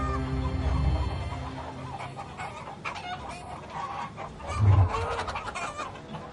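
Domestic chickens clucking in a loose, irregular series with one louder, closer cluck partway through, over a busy farmyard background.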